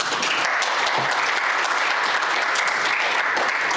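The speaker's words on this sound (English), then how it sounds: "Give Greg a round of applause" An audience at a cybersecurity business conference at Kean University gives a round of applause, dense and loud clapping from a large crowd, unbroken and even from start to finish.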